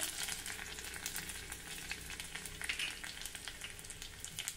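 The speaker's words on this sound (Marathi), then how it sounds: "2 ते 3 लसूण पाकळ्या बारीक चिरून घालूया।" Finely chopped garlic cloves sizzle in hot tempering oil already holding cumin and mustard seeds, a steady close frying hiss broken by frequent small crackles and pops.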